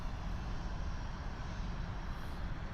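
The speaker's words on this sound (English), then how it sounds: "here's the Air Canada Rouge going to Fort Lauderdale, Florida" An Air Canada Rouge Airbus A320 bound for Fort Lauderdale at Toronto's airport gives off a continuous, steady engine roar at moderate distance, without breaks.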